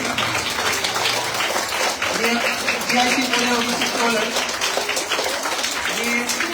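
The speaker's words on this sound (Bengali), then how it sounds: "সবাই হাততালি" A school audience at a teacher's retirement and handover ceremony claps steadily and fairly loudly while someone speaks over the applause.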